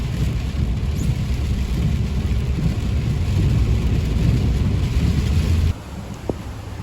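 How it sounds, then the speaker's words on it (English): Heavy rain from a storm in Southern California roars as a dense, continuous wash of noise, heard from inside a moving vehicle with wind buffeting, then drops slightly in level near the end. "It's an official rainstorm here"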